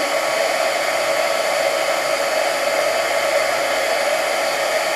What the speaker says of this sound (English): coat it with another layer of embossing powder. Heat it up again.